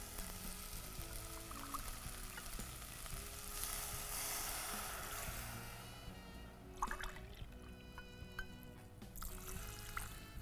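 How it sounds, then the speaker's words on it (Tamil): Water is poured onto seeraga samba rice, about two tumblers for one of rice, making a soft splashing and trickling sound. A faint hiss continues before it settles, quiet and close. "அதனால் ஒரு 2 டம்ளர் அளவுக்கு தண்ணி ஊற்றிக்கோங்க."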